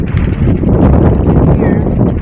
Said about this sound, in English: the winds are still gusting